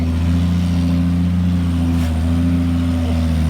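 A car engine at steady high revs while climbing out of a muddy pit after rain, a loud, constant mid-pitched drone.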